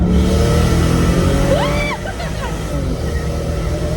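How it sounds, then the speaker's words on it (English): A 450hp Toyota Supra launches at full throttle, its engine and road noise a loud, steady roar throughout with a brief rising whine partway in, no one speaking. "Now try to launch it a little bit. Like Gas full throttle."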